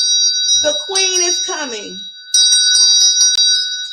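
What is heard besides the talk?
wind chimes ringing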